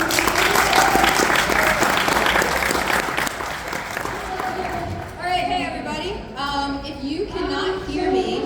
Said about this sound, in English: So, round of applause for Shannon, please.